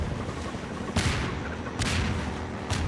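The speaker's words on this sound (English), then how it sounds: "and I got hit by the bombs" Bomb blasts in the Half-Life 2 boat trip level, three sharp bursts with airy tails roughly a second apart over a steady low engine rumble.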